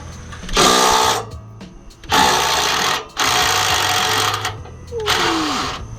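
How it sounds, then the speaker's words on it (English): A Milwaukee impact driver runs on an exhaust flange bolt for a Subaru WRX axleback, firing in four loud, close bursts of rapid hammering whir about a second each, with someone talking in the pauses. "Little impact driver. Come on, Milwaukee."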